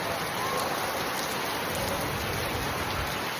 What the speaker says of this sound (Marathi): पाऊस स्टार्ट झालाय मस्त